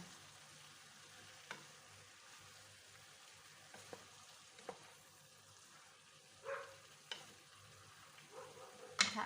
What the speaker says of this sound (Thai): ใส่ลูกชิ้นลงไปโหลด ทั้งหมดเลย คนให้เข้ากัน